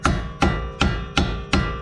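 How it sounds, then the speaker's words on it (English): A hammer taps out front strut bolts on a 2012 Chrysler 200, five evenly spaced sharp metallic strikes, loud and close with ringing decay between blows. "tap them out with a hammer"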